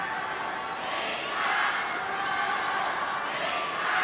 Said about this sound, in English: So the crowd is waking up,